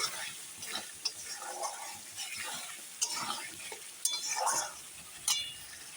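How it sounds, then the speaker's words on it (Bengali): Potato and cauliflower curry with spices being sautéed in a pan, a soft low sizzle broken by the clinks and scrapes of a spoon stirring against the pan, close but fairly quiet, with no talking. "দেখো এখন কষানো হতে থাক"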